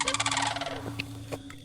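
An unidentified bird lets out a rapid, warbling gobble-like call, loud and fairly near, that trails off into a few scattered shorter notes.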